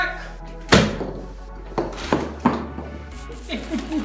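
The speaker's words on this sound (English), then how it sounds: "using the Airzooka to blow these balls off their perches" An Airzooka air gun fired at balls sitting on perches, giving a sharp thump followed by several lighter knocks and clatters as the balls fall, with a voice speaking in the background.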